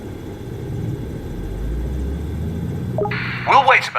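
Aircraft engine in the AirportSim video game spools up into a low, steady idling rumble that swells gradually, and a voice speaks briefly near the end.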